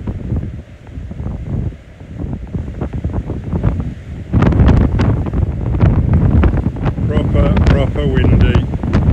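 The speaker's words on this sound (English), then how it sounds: "Proper windy." Strong wind blowing across a lake in Wales during summer pike fishing, gusty rumbling buffets battering the microphone, building louder after a few seconds and staying heavy to the end.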